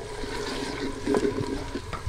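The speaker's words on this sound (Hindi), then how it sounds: "अब हम इसमें थोड़ा सा पानी शामिल कर देंगे।" Water poured into masala cooking in a pot for daal mash, a steady wet pouring and sizzling hiss that swells briefly midway, heard close with no talk.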